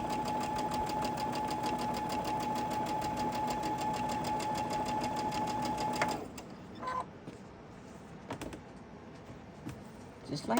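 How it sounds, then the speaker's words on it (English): A sewing machine chain stitches fabric in a fabric studio, running steadily and loudly for about six seconds with a fast, even hum, then stopping and leaving quieter handling noises. "But I'm going to go ahead and I'm going to do all of them chain stitched again."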